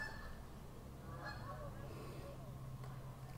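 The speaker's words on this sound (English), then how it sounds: "I don't know if you could hear the geese out there" Geese honking outdoors, faint and distant, with a few scattered calls heard indoors over a low background hum.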